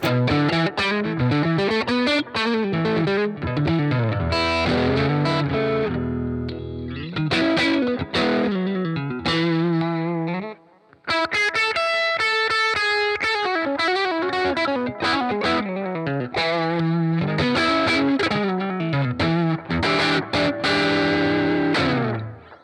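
An electric guitar plays through a UAD Fender Tweed '55 5E3 Deluxe amp emulation with a JB120 speaker, a loud, driven, distorted tone strumming chords and riffs in bursts, with a brief pause near the middle, and no talking.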